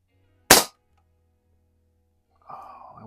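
A single sharp crack from a Crosman Model 1 .22 caliber pump air rifle fired in a garage, short and close, followed by silence and then a faint breathy sound.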